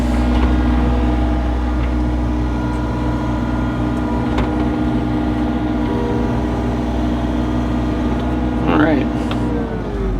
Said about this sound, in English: that door rattles all the heck when it's idling low